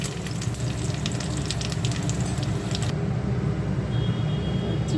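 Dried red chillies hit hot oil in a pan and sizzle, a steady close crackle of frying that runs unbroken throughout.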